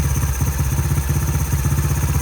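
A Honda XR70 fitted with a BBR 88cc big bore kit runs steadily with the mic held right at the engine, giving a loud, close, rhythmic thumping pulse with a mechanical clatter on top.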